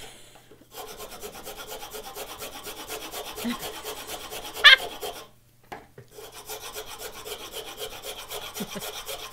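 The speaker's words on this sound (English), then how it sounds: "Don't push with the rasp. Let it do the work." A wood rasp files a wooden piece for a one-hand book holder in steady, rhythmic rasping strokes, close and fairly quiet, with a short pause near the middle before the strokes resume.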